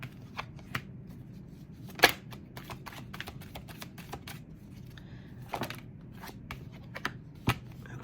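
Tarot cards are shuffled by hand in a quiet room: soft, rapid riffling and flicking with a few sharper slaps, steady and close throughout.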